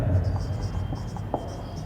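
Chalk or marker scratches in short strokes as notes are written on a classroom board during a biology lesson, faint and broken, beneath a low hum of room noise.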